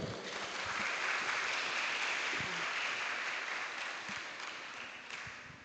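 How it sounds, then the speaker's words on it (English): At an international student forum, an audience gives a student team a sustained round of applause, an even, dense clatter of clapping that holds steady and fades a little near the end. "Let's give applause for Infinity team"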